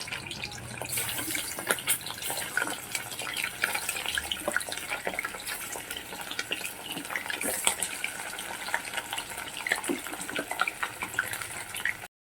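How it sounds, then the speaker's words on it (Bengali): Chicken pieces dropped into hot oil crackle and spit in a dense, fairly faint stream of small pops that runs without a break and has no voices. "তেলটা গরম হয়ে গেছে তো আমি এবার চিকেনগুলোকে তেলে দিয়ে দিচ্ছি"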